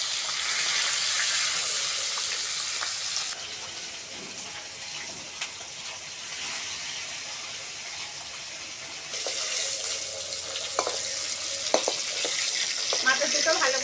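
Fish heads fry in hot oil in a home kitchen, a steady hissing sizzle running throughout with occasional clinks and spatters, close and continuous with no speech.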